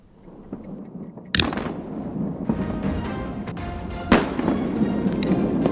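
SpaceX Starship, Ship 36, explodes during testing: a sharp, heavy blast is followed by rolling rumble and crackle, then a second loud burst, all heard from a distance.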